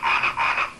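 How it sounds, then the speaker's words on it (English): A singing Santa frog toy lets out two close, loud electronic ribbit croaks in quick succession, a short nasal toy-like chirp. "This is a Santa frog, and it sings"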